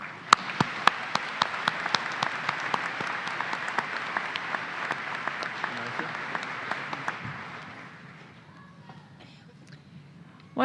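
Sustained audience applause fills a Washburn University spring 2017 School of Applied Studies commencement ceremony, with dense, steady clapping that holds for about eight seconds before thinning out and fading.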